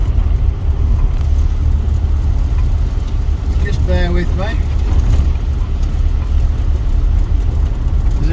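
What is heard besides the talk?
car driving on slushy road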